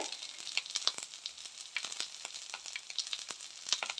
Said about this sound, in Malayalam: ഇതാണ്ടിൽ നമ്മളിട്ട ഐറ്റംസ് ഒക്കെ ഇതാ എണ്ണയിൽ നന്നായി ഒന്ന് വഴറ്റി കൊടുക്കാം